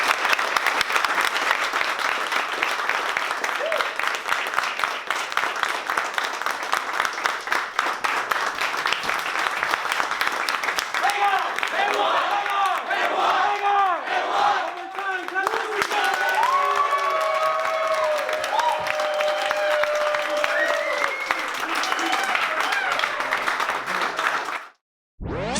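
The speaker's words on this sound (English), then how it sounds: "Let's clap it up for Joe." Loud, sustained applause from an audience at a promotion celebration, with cheers and whoops rising in the middle and scattered voices shouting over the clapping, ending abruptly after about 25 seconds.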